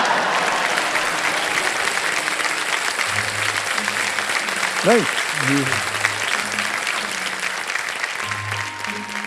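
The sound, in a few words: TV studio audience applause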